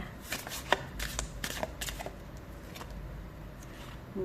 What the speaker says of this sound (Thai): เดี๋ยวขอเปิดไพ่เพิ่มนิดนึงนะคะ